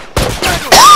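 Gunfire in The Last of Us Remastered, two or three loud, sharp shots close together, the last followed by a brief ringing tail.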